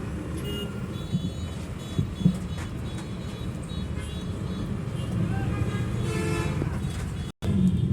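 Dhaka street traffic jam, with car horns tooting now and then over a steady rumble of engines and road noise around the listener, the honks short and fairly close, and no clear speech above the din.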